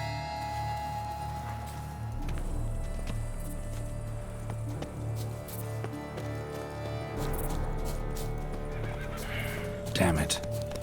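A horse from the Witcher 3 Blood and Wine game neighs loudly near the end, with steady clip-clopping hooves throughout and game music and a voice faintly underneath.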